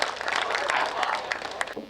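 Hearty applause from an audience at a Hindi poetry gathering greeting the first poet, a dense burst of clapping that tapers off near the end.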